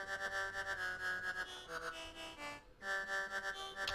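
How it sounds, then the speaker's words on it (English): Widened synth bass with a flanger effect, sustained pulsing tones with a sweeping, shimmering character, steady and moderately loud, briefly dropping out before resuming. "It's got a flanger effect on it, which I think also really helps with the sound"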